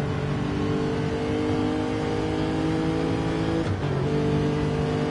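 Lexus race car with a big 5-litre V8 in a Monza endurance racing game, a steady loud engine drone held on the straight with a brief pitch dip near the end, as if passing or shifting.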